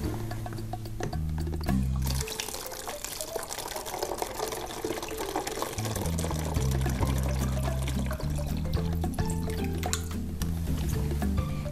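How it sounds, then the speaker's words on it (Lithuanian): Water is poured into a plastic bottle, filling it almost to the top, a steady liquid stream heard under continuous background music. "Į plastikinį butelį pripilsiu vandens beveik iki viršaus."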